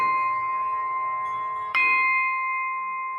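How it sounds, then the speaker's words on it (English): Large bell ringing with a sustained metallic tone that is already fading, then a second hammer strike lands and sets off a fresh ring that decays slowly, heard close and alone. "If you grab the hammer and you go to the bell and you hit it,"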